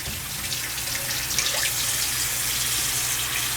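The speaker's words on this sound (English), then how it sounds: "let me rinse my hands off." Tap water pours steadily into a kitchen sink while hands are rinsed after handling flour. The rush is loud and continuous, with faint splashing changes, and no one speaks.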